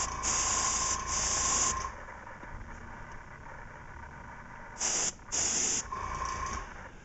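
Handheld airbrush spraying paint in two bursts, a long one at the start and a shorter one near the end, each a close, bright, steady hiss, with quieter background hiss and faint handling sounds in between.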